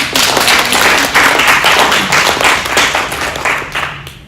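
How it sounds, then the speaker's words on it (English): Wedding guests at a speech reception break into loud, dense applause, a continuous close wash of many hands clapping that holds steady before tapering slightly at the end. "Big applause for her."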